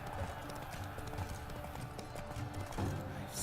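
A horse's hooves clip-clop in a steady, close, rhythmic gallop in the video game The Witcher 3: Blood and Wine, with ambient game sound underneath throughout.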